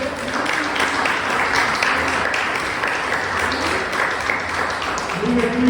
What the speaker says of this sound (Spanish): Ven un aplauso al Rey de Reyes.